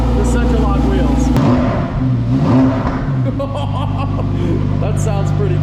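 A new Lamborghini with factory exhaust revs hard, a loud close roar that rises and falls before settling into a steady throaty idle, with a person talking over it.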